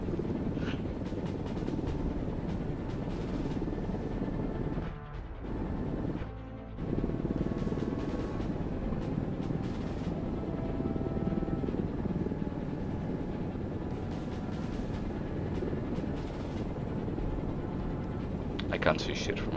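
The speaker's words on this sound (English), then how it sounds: "Why is that news helicopter still here?" A steady helicopter rotor drone from a news helicopter in a video game fills the scene, broad and continuous, with radio-style chatter and voices talking over it throughout.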